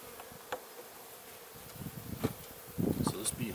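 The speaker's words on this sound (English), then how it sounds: "Alright, this is where all the bees are." Honey bees hum and drone around an opened beehive holding newly set, largely undrawn comb frames, a soft close buzz that thickens toward the end, with a few brief handling knocks and rustles.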